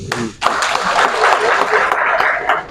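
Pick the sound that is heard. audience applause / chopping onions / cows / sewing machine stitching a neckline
audience applause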